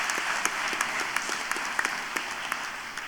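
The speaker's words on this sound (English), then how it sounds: "Students, can you please give them a round of applause to the RMIT staff who have helped you along the way." A graduation audience at RMIT Vietnam's Hanoi campus applauds the university staff: a steady, dense wash of clapping from a large crowd, fairly even throughout with a few sharper individual claps standing out.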